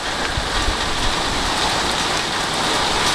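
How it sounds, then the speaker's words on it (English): Steady, dense rain during a London storm patters on garden leaves, the ground and a conservatory roof, a loud, even hiss of countless drops close by with no one speaking. "just kind of listening to the rain hitting the leaves, the ground, the conservatory roof there"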